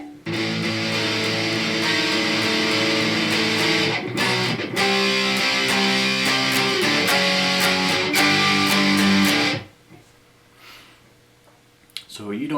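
A slow electric guitar rendition of a riff, with sustained distorted chords and sliding notes ringing steadily for about nine seconds before stopping, then near silence.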